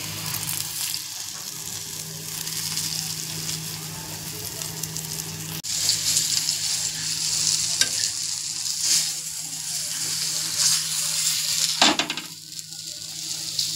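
Pomfret fish fries in a hot pan with curry leaves, giving a steady close sizzle with the scrape of a spoon stirring through it and no voices.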